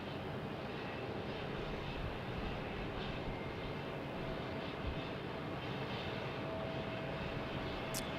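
CRJ regional jet at Phoenix Sky Harbor, a continuous distant engine roar, even and moderately faint, with no voices over it.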